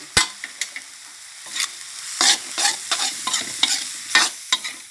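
Dry Thai fish-kidney curry (kaeng tai pla haeng) with kaffir lime leaves stir-fried in a pan, sharp scraping strokes of the spatula coming at irregular intervals over a faint sizzle, close and with no talking.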